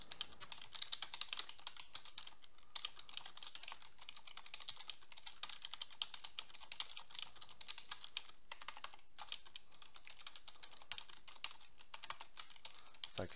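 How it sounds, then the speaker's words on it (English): Footnote text typed on a computer keyboard, a steady patter of quiet, quick keystrokes that continues evenly for the whole stretch with no talking. "Now I'm going to type in the text for my footnote."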